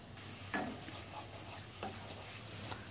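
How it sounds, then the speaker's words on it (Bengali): Spices with a little water, including Kashmiri chilli powder, being stirred in a wok for a Bengali fish curry, giving soft scraping strokes over a low steady sizzle, fairly quiet and close. "জল দিয়ে নাড়াচাড়া করে নিচ্ছি যাতে মশলাগুলো কড়াইতে না ধরে যায়"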